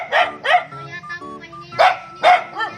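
Dogs at a rural chapel building site bark repeatedly, four loud close barks in two pairs with yelping overtones, separated by a softer whine-like stretch.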